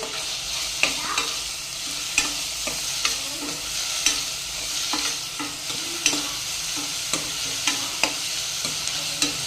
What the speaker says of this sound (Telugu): బాగా ఫ్రై అయిపోయింది